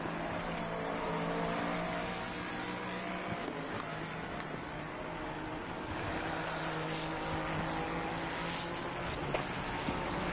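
A Lexus and a Ferrari racing at Silverstone during an eight-hour endurance race: a steady distant engine drone with shifting pitch as cars pass, fairly faint and continuous, with no one speaking.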